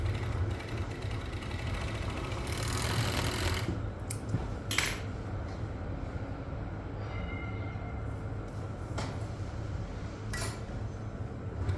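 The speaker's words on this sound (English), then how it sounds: "This doesn't need to be done on an industrial overlocker, it just happens that that's what I'm using today" An industrial 4-thread overlocker sews a knit T-shirt seam with a continuous loud mechanical hum and rattle, broken by a few brief clicks and metallic taps.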